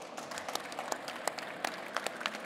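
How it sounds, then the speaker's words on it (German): Audience applause after a panel discussion at an education trade fair, a dense, steady patter of many hands clapping in a hall, moderately loud, with no talking over it. "da hinten ist der Applaus besonders groß"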